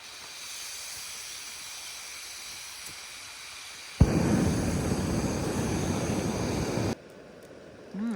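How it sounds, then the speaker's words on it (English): A backpacking camp stove in the Big Sur Silver Peak Wilderness heats water for beans, its burner giving a steady close roaring hiss that starts abruptly, holds for about three seconds, then cuts back to a quieter background. "So we're gonna get this water boiling for the beans."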